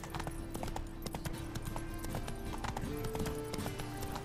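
Horse hooves clip-clop at a steady gait while riding in The Witcher 3: Wild Hunt, with continuous rhythmic hoofbeats over game ambience and music.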